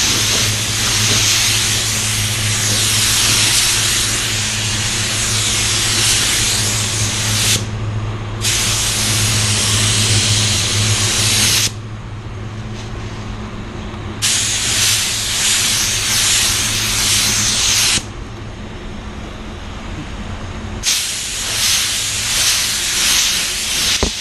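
A spray gun laying red multi-coat paint onto a Tesla fires in four long hissing bursts separated by short pauses, close and loud over a steady low compressor hum.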